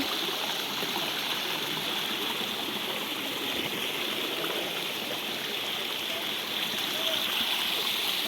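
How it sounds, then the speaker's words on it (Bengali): Water falling and streaming near the living root bridge in Cherrapunji, a steady broadband rush that stays close and continuous throughout, with no voices. "এই যে এখান দিয়ে জল পড়ছে"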